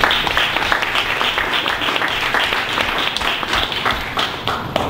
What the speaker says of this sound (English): let's give Scott Thornton a warm round of applause and welcome him to LA2M.